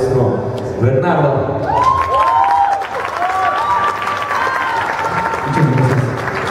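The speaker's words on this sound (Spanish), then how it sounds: "un fuerte aplauso en los pianos, en los teclados, al maestro Bernardo." Concert crowd clapping and cheering for a keyboard player at a tribute show, loud, continuous applause mixed with whoops and shouts, a sustained tone ringing underneath.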